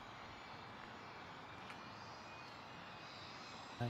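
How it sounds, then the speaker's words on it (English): A Cirrus jet taxiing out at Boeing Field airport, a steady, fairly faint engine whine and rush that holds an even level throughout, heard from a distance with no talking. "Here, we got a jet coming out."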